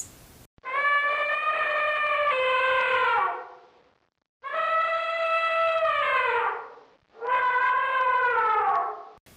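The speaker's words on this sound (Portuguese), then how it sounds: "Esse é o som do elefante." An elephant trumpets in three long, loud, brassy blasts. Each blast slides downward in pitch and is separated by brief silences.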